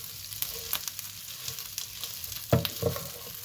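Leftover rice dough for Gujarati muthia is mixed by hand or spoon: soft, uneven squelching and rustling stirs at close range, with a couple of louder thuds near the end. The sound is fairly quiet and there is no speech.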